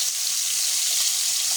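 Chicken pieces fry in hot oil with a steady, even sizzle and hiss that holds for the whole short stretch, close by and with no one talking.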